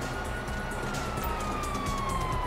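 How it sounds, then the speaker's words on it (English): Police siren wailing inside GTA V, a steady rising-and-falling tone held throughout over a dense bed of game noise and rumble. "You hear that? Siren! Fuck the cops!"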